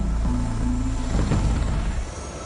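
A steady, rumbling helicopter drone fills the clip, loud and close, with a low thrumming rotor beat throughout.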